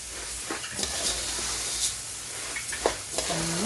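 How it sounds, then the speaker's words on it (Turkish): Butter, close to a kilo, sizzles in a large pot for rice pilaf meant for 100 people, a steady close hiss broken by a few scraping stir sounds and soft clatters. "Şöyle tereyağını da ilave ediyoruz."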